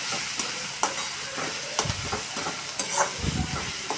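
Bajra bhakri thecha, a chili mixture, is stirred and sautéed in a pan with a soft continuous sizzle, broken by sharp spatula scrapes and knocks against the pan; no voices.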